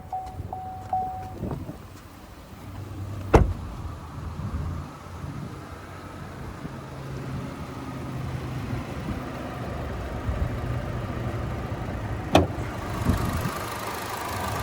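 A 2020 Chevy Sonic LT RS hatchback's 1.4 liter Ecotec turbocharged four-cylinder runs at a steady low idle hum, with two sharp clicks near the cabin breaking through.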